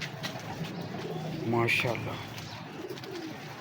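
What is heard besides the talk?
pigeons cooing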